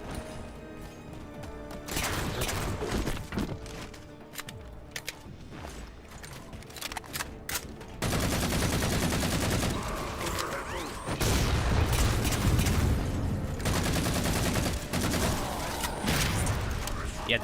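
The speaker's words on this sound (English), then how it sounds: "the assault rifle is much more accurate too" Assault rifle fire in the video game Halo 4, long bursts of rapid automatic shots mixed with explosions and heavy game effects, dense and continuous over a noisy background.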